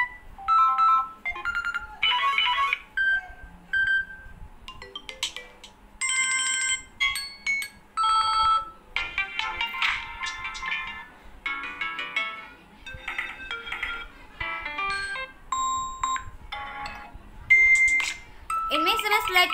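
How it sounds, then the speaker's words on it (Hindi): Samsung Galaxy A13 smartphone ringtones previewed one after another: short bursts of bright electronic melodies and tones, each stopping and giving way to the next, close and clear, with no talking over them. "मैं आपको रिंगटोन प्ले कर दिखा रही हूँ।"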